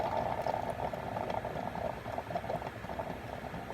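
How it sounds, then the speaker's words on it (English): Hot water from a Keurig machine streams steadily into a glass measuring cup, a soft continuous bubbling pour heard alone at low volume. "you can hear the water going into the glass measuring cup that I use at my Keurig."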